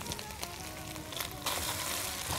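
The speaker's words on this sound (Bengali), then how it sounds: "একটু খালি আমরা সাঁতলে নিব।" Pumpkin, potato, green banana and eggplant pieces sautéing in a pan for shukto, giving a steady close sizzle with crackly texture that swells louder midway and holds.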